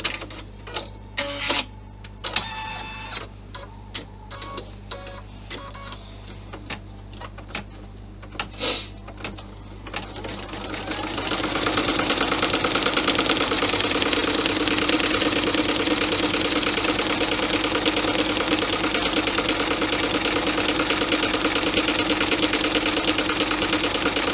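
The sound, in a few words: sewing machine doing a satin stitch around pockets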